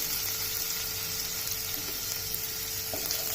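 Ginger and vegetables sizzling in hot oil in a pan for hot and sour vegetable soup, a steady close crackle with a soft stir near the end and no talking.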